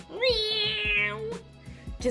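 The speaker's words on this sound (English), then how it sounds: "like gave him the most obnoxious and demanding meow" A cat gives a loud, drawn-out demanding meow while being petted, one long insistent call that rises and holds before trailing off, with faint soft sounds of handling around it.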